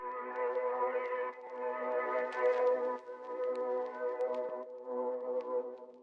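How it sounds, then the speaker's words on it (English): A warm, sustained synth pad in FL Studio holds soft chords in several long phrases, with faint airy high glints over the top and no talking. "Next sound I've added is this pad."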